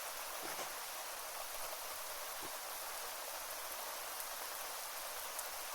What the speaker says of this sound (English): Now, Barry is cold because of the constant rain